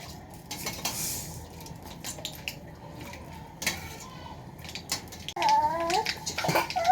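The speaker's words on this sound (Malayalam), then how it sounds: "കടുക് പൊട്ടണുണ്ട്" Mustard seeds crackle in hot coconut oil in a pan while a Kerala fish dish is being made. Scattered pops and utensil clinks come through a quiet background, and the sizzle grows louder near the end.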